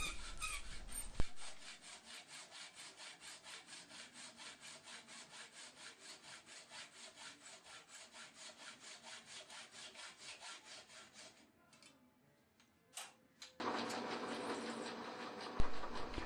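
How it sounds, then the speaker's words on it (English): Steady back-and-forth strokes of a hacksaw cutting silver steel (high carbon steel) rod, rhythmic and close, pausing briefly before a louder rasping burst at the end. "this is now used as a reference for cutting the silver steel rod"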